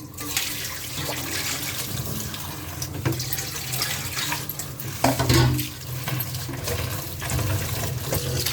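Tap water runs steadily into a sink as tomato and eggplant are rinsed, a continuous splashing gush that swells briefly midway and carries on to the end.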